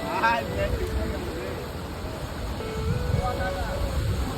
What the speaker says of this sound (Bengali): সমুদ্রের আওয়াজ কি শোনা যাচ্ছে? হয়তো শোনা যাচ্ছে। আর গর্জন।